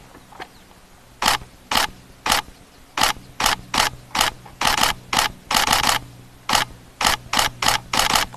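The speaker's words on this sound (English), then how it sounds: "I do wish my camera had a slightly less noisy shutter to it." A noisy camera shutter on a live African safari fires in a long run of sharp mechanical clicks, close and loud, in quick irregular bursts throughout.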